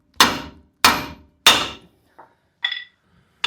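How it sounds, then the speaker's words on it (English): A metal mallet smacks up on the bottom of a tie rod to pop it out of the steering knuckle on a Ram during CV axle replacement: three loud, ringing blows near the mic, then a faint tap, a higher clink and a final hit. "with a metal mallet, just smack up on the bottom of the tie rod, popping it out of the knuckle"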